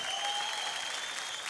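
Studio audience at a televised Indian dance competition bursts into dense, steady applause, loud and continuous with no pauses.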